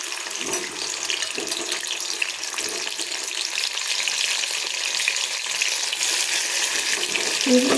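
Steady, crackling sizzle of salted bitter gourd pieces frying uncovered in a hot pan, with faint clinks, continuing evenly throughout.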